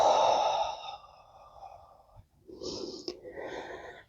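A long, audible exhale during a yoga breathing practice, a close breathy sigh that fades out, followed by a shorter burst of breath.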